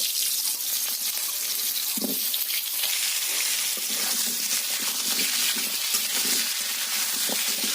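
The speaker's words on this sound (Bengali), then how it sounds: "ওই তেলের মধ্যে মা দিয়ে দিল কেটে রাখা আলুগুলো ভাজার জন্য" Cut potatoes frying in hot oil in a pan where fish was just fried, giving a steady, close hiss of sizzling with faint crackles and no talk.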